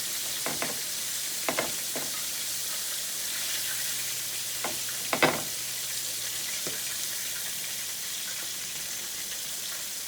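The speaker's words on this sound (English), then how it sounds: "I'm going to let that one fry just another minute or two" Chicken tenders fry in oil in a pan on a home stove, giving a steady, close sizzle. A few light clinks and knocks from cooking utensils break in now and then, with no talking.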